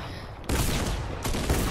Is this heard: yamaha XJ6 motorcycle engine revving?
no